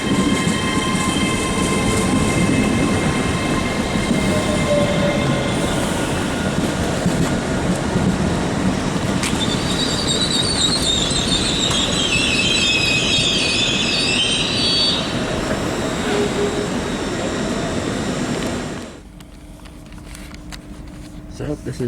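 Passenger ride aboard an LNER Azuma service to Durham, a loud steady rumble of the train running with wheel squeal rising mid-way, then the noise drops off sharply near the end.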